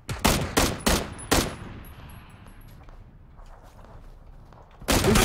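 Bursts of gunfire from a PUBG battle royale firefight, several loud shots in quick succession, then a quieter stretch of distant ambience before another close burst at the end.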